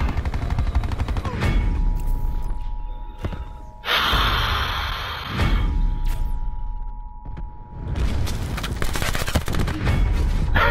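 Gunfire in Call of Duty Black Ops 4 Blackout comes as rapid automatic bursts mixed with louder single reports, loud and close, with pauses between volleys and gameplay noise underneath.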